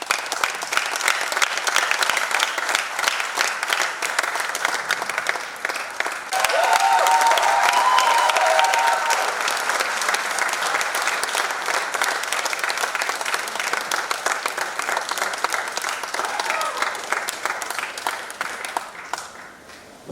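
Audience applause at a tribute event for a musician, sustained clapping from a large crowd that swells and continues for about twenty seconds before tapering off.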